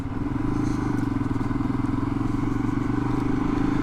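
Royal Enfield Himalayan motorcycle pulling away in second gear, a steady low engine drone that swells slightly after the first half second and holds close and even throughout, with faint wind and road noise.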